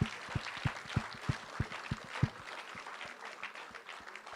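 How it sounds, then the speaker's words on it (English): Audience applause honoring an outstanding achievement at a talk session, with a few sharp, evenly spaced claps standing out over a broad wash of clapping that holds steady for about four seconds. "I think all of us need to give him a round of applause."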